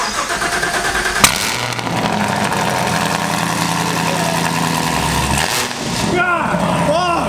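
A supercharged Nissan 350Z wearing a Corsa exhaust fires up and settles into a loud, rumbling idle, heard close with a few sharp revs near the end.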